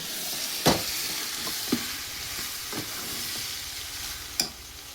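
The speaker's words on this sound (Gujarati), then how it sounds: "એટલે પાછું હલાવી નાખીએ." Homemade corn chevdo is stirred in a frying pan, with steady sizzling and a few sharp scraping clacks of the spoon against the pan, close and without talk.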